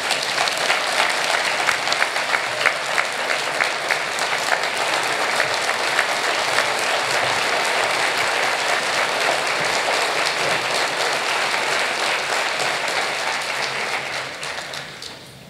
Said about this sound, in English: Please give him a round of applause as he comes to the podium.